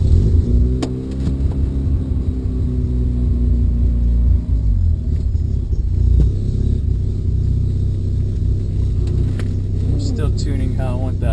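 A 1993 Mazda RX-7 rotary engine with a straight-through exhaust idles with a loud, steady, low burble, lifting briefly in a few short revs. Someone speaks over it.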